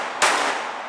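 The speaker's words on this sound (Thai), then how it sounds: "Emergency load นะชักปืนขึ้นมาดึงสไลด์แล้วยิงออกไปนัดเดียว" Single sharp pistol shot from a police cadet's emergency reload drill, a loud crack with a lingering ring-out on an outdoor firing range, no voices.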